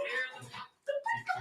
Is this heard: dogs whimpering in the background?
yes